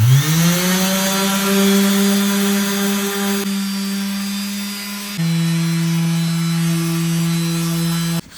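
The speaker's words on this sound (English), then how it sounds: "Then I start sanding to remove the old varnish." Power sander with 120 grit discs stripping old varnish off a wooden dresser, a steady loud motor whine that drops in pitch partway through as the load changes, close and continuous.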